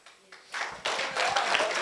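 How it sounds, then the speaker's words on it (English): Wedding guests begin applauding after a toast, the clapping building in quick bursts from scattered hands into fuller applause, fairly faint, with voices mixed in. "Round of applause, please."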